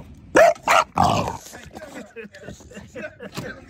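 A neighbor's dog barks loudly at close range, three sharp barks in quick succession followed by quieter growls and yips, with people talking over the scuffle.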